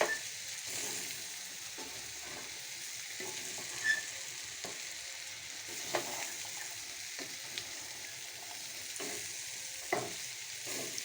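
Ghugni sautéing in a pan sizzles and fries steadily, with occasional stirring scrapes and soft clinks standing out over the constant hiss.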